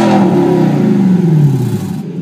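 Lexus LS400 V8 engine revving loud and close, a strong droning roar that sweeps downward in pitch as the revs fall away.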